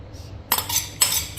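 A spoon clinks and scrapes against a bowl while egg is mixed into milk, in three short bursts with brief pauses between, close and moderately loud.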